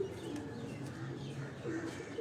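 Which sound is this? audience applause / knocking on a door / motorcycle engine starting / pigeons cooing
pigeons cooing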